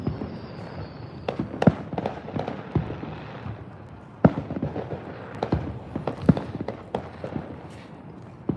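Fireworks go off at a Fourth of July celebration, a string of sharp cracks and pops at irregular intervals, some loud and close, others duller and farther away, over a low rumbling background.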